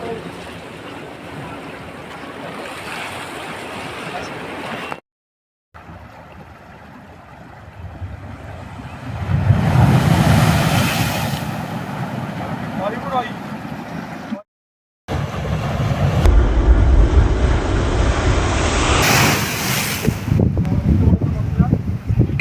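Big sea waves wash and roar around a small boat during bait fishing off the Odisha coast, loud broadband surf and wind noise that swells and recedes, with brief cutouts between segments.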